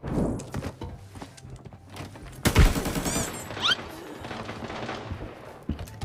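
Video game gunfire in a shooting match, with rapid bursts of automatic fire and single shots, a heavy blast near the middle, and scattered footsteps between volleys.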